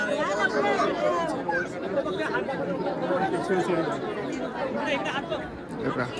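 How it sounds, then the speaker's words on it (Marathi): Dense crowd chatter fills the hilltop Ekvira Devi temple near Lonavla, a steady close babble of many overlapping voices in a packed queue of devotees. "खूपच गर्दी आहे."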